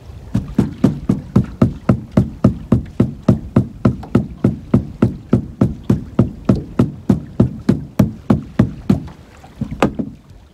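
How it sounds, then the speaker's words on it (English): Someone beats steadily on the hull of a fishing boat while fishing for suspended white perch, producing about two dozen evenly spaced, loud, hollow knocks close to the listener, with a brief pause and a scuffle near the end. "Beat the boat some more."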